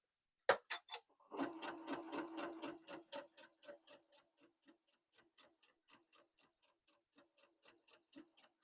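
A sewing machine runs a short burst of back stitching on a shirt seam, starting with a few separate clicks, then a dense fast whirring run that slows into an evenly spaced, steadily softening series of mechanical ticks, with no talk.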